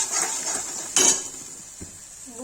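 Cauliflower korma masala with cinnamon paste and salt being fried in a pan, with a metal spoon scraping and clinking against the pan over a soft sizzle, one louder clank partway through.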